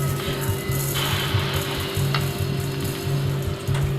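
Cumin, carom seeds and fenugreek dry-roast in a hot kadai over low flame, making a continuous dry rustling hiss with steady low humming underneath.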